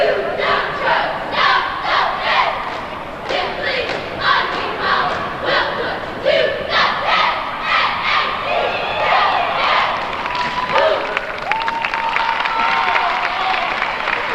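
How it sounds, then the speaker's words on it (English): A varsity cheerleading squad performs on a gym floor during a boys' high school basketball game, with rhythmic chanted cheers and a loud crowd cheering and clapping in an echoing gym. "NAC varsity cheering squad now on the floor."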